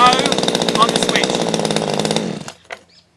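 A chainsaw runs loudly nearby with a steady, buzzing engine chatter, then is switched off and winds down to a sputter and clatter before falling silent.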